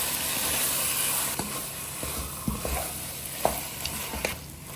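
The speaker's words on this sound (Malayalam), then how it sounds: "ഇനി അടുത്ത് നമ്മൾ കഴുകി വെച്ചിരിക്കുന്ന ചിക്കനൊക്കെ കൊടുക്കാം. നന്നായിട്ടൊന്ന് മിക്സ് ചെയ്ത് കൊടുക്കാം." Chicken is stirred into sizzling masala in a pan for chicken perattu, a steady frying hiss underlying a few light scrapes and taps of the spoon, close and moderately quiet.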